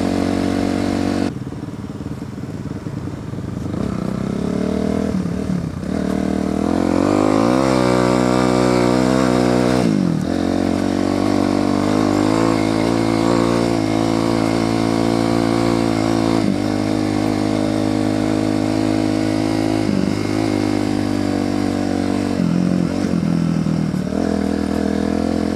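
A Kawasaki KLX250 dirt bike engine drones loudly and continuously at close range, rising and falling in pitch as the rider shifts and throttles over sand and rock.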